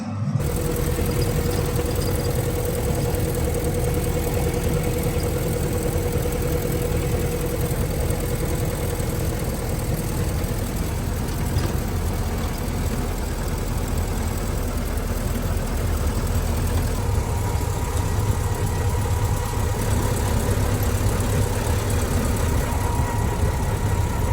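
An antique truck engine runs continuously while driving, a loud, steady, rough drone with a deep rumble and a constant mechanical clatter that holds level throughout.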